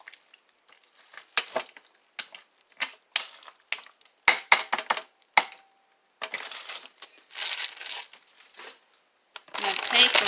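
A pizza pasta casserole with frozen peppers and onions is stirred by hand in short, irregular bursts of scraping and crinkly mixing, with quiet gaps between strokes.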